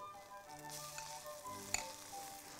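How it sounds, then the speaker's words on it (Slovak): Flour is stirred into choux pastry dough in a pot on the stove, a faint continuous sizzle with soft scraping strokes and a light knock of the spoon, close and without talking. "a miešame tak, aby sa nám to spojilo do takej pevnej hmoty"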